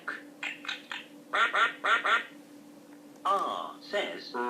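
A toy laptop plays a spoken phonics sequence, with a voice saying short words then imitating a duck's quack, near and clear over a steady electronic hum.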